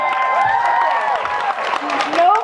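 Applause and cheering from a crowd at a VidCon panel, a dense wash of clapping mixed with whoops and voices, loud and close for the full few seconds.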